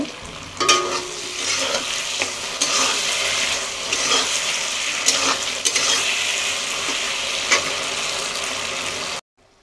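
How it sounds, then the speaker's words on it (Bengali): A spoon stirs tomato sauce through chicken chap sizzling in a pan, with continuous frying hiss broken by scraping strokes and occasional knocks against the pan. The sound cuts off abruptly near the end. "তো আমি এর মধ্যে দিয়ে দেবো এখন কিছুটা টমেটো সস। এবং এটা আবার ভালোভাবে মিশিয়ে নিব।"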